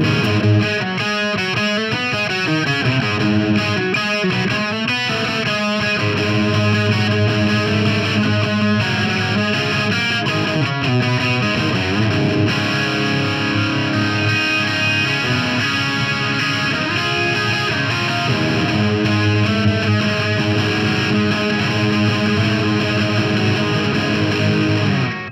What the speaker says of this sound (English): What is it about a 12 string with a bunch of distortion and you get mystical?